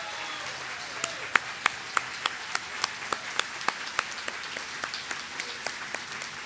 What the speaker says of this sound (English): We need to give them a big round of applause for everything they've done.